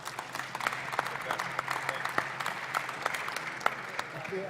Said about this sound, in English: can we just get a round of applause for Amir, who just did a phenomenal job?